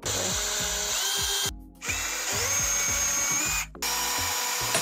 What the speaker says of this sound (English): I'm going to pre-drill the hole